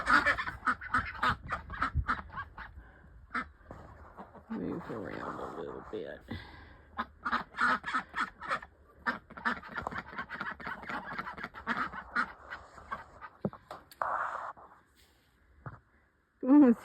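Farm ducks quack and honk in repeated bursts at close range, with a person talking quietly among the calls.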